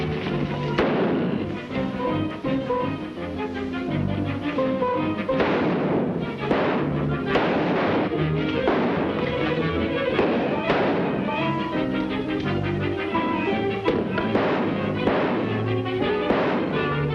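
Heavy gunshots blast at a door lock in a horror film, a dense run of loud, booming reports repeating every second or so over a constant rumbling background.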